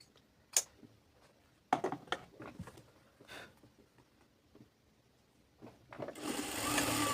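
Scattered light clicks and taps come from handling fabric at a sewing machine while a salwar is being stitched. Near the end the machine starts up with a brief burst of close, continuous whirring.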